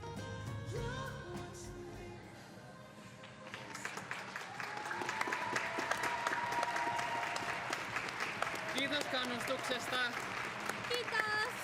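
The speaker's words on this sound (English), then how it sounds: "Best crowd reaction, I think, of the day for Finnish skaters" A crowd at an Espoo ice dance competition applauds Finnish skaters, sustained clapping that builds and grows louder partway through, with cheers and a commentator talking over it.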